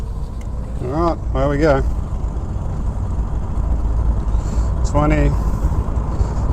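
A Ford XA Falcon, first drive in 16 years with a suspected hung-up rear brake, rolls along the road with a steady low engine and road rumble while someone speaks briefly over it in two short bursts.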